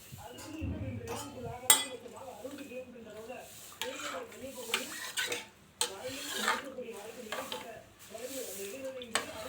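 A spoon stirs and scrapes through a thick mixture of rice and lentils with water in a pot, with occasional metal clinks, as someone talks throughout.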